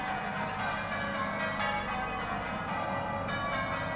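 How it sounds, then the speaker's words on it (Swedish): Several British church bells ring in change-ringing combinations, a steady, overlapping peal with rich sustained tones, continuous throughout, at moderate volume. "Och då hör ni den här typiska brittiska kyrkringningen där man då i kombinationer slår i klockorna."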